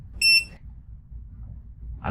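An HDMI matrix switch gives a single short, bright electronic beep, loud and close, followed by quiet room tone and a faint noise at the end.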